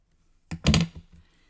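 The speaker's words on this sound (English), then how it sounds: "Gotta cut this straight too." Craft paper sliced in one straight pass while making a Lawn Fawn six-panel wall decor piece: a single short, crisp crunching cut, close and fairly loud, with quiet room around it and no talking.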